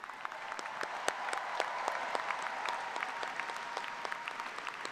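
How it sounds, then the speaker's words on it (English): An audience applauds master's graduates at a university commencement ceremony, a steady wash of many hands clapping with a few sharper individual claps standing out, fairly distant and continuous throughout. "Another big round of applause for all the master students."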